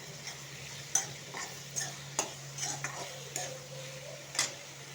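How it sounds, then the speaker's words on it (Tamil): Onions and green chillies are stirred and sautéed in a pan for a Kerala kadala curry, giving a steady low sizzle broken by several sharp scraping clicks of a spoon against the pan, with no talking. "2 பச்சை மிளகாய் போட்டு எல்லாத்தையும் வதக்கலாம்."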